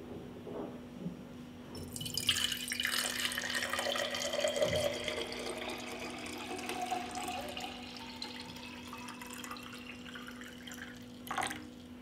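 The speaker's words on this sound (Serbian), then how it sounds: "Prvo što radim, vodu sipam u čiste tegle." Water poured from a container into clean 0.7-litre glass jars, a steady close trickle and splash that builds across the fill, with a brief clink near the end.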